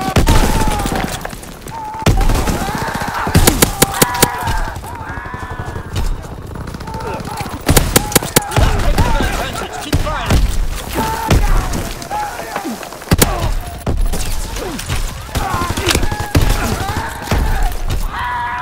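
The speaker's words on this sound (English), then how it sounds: "Keep firing!" Call of Duty WWII battle gunfire: repeated bursts of rifle and machine-gun shots crackle in clusters over a rumbling, rain-like battlefield din, while soldiers shout orders throughout.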